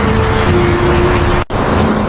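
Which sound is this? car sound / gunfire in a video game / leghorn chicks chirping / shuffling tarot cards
car sound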